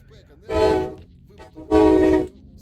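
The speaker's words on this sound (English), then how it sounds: "If you can hear that train" Two loud, separate train horn blasts sound from a train passing near the recording location, each lasting about half a second, with a low rumble and faint talk between them.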